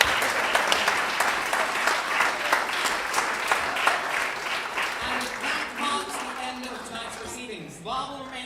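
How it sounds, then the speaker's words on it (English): A room of students and guests at a student awards night gives a steady, loud round of applause that gradually thins out, with a voice speaking over the tail end. "Give yourselves another round of applause."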